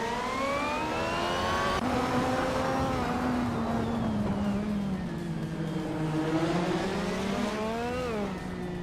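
Race cars in a video game pulling away at the start at Oschersleben, a 1988 McLaren MP leading, engine notes rising and falling through gear changes in a steady loud drone with overlapping whines.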